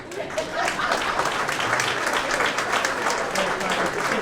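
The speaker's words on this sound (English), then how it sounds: "yes, you can clap for that." Diners at a retirement dinner break into sustained applause, a loud, close and continuous mass of claps with some crowd murmur underneath.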